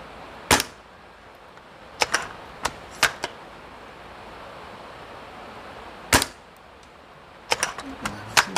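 An airsoft sniper rifle firing 0.4 gram BBs at targets gives sharp, snappy cracks, some single and some in quick clusters, spaced irregularly against quiet outdoor background noise.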